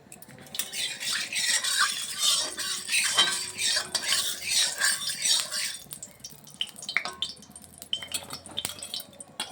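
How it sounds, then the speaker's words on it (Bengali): Potatoes fry in hot mustard oil in a wok, a dense hiss of frying broken by metal spatula scrapes and clinks, loud and close for most of the stretch before it thins into scattered taps. "তেলটা গরম হলে আলুটা ভেজে নিচ্ছি"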